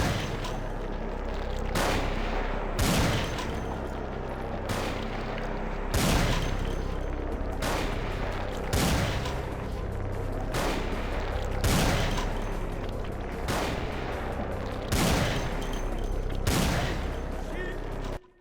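Video game gunfire from the Vampire: The Masquerade – Bloodlines Final Nights mod rings out as a long series of loud, regularly spaced booming shots, each about every second and a half, over a dense continuous background.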